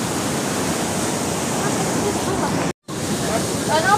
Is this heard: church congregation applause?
no